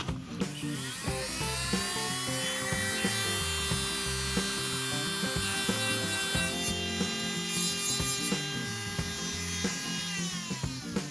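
A scribing tool drawing a groove into the soft plastic of a Lindbergh model kit trunk lid or door, a continuous scratchy, whining scrape lasting the whole stretch, close and fairly quiet with no talking.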